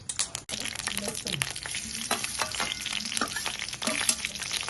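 Cumin seeds, asafoetida and turmeric crackle and sizzle in hot oil for dill leaf curry, a dense, steady frying hiss with sharp spattering pops throughout, close and loud with no talking.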